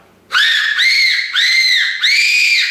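Four sharp, loud human whistles used to call in a fox, each held about half a second with a slight rising-falling bend, separated by short gaps and close to the listener.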